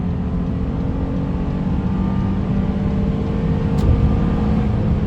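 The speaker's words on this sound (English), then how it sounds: "You can definitely hear that engine. It's working for sure." A 2022 Honda Ridgeline pickup's engine drones under load as the truck accelerates while merging onto a highway, a steady low rumble with road and wind noise building slightly toward the end.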